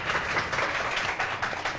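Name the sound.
studio audience applause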